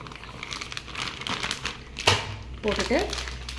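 A plastic oil packet is folded and crumpled together with flour, giving crinkling plastic rustles in bursts with a sharp crackle midway, close up while a person talks.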